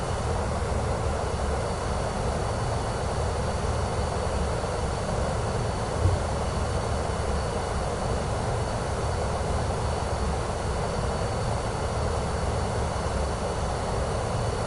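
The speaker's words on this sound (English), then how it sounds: "I turned down the engine sounds this morning." Aircraft engine noise from Microsoft Flight Simulator 2024 on PS5 holds as a steady, broadband drone for the whole stretch, moderate in level and unchanging, with no voices over it.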